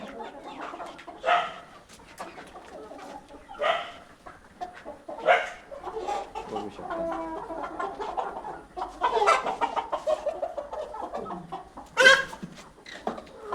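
Hens in a small Konkan poultry farm shed cluck in short bursts and murmurs, with a few louder squawks standing out against a quiet background.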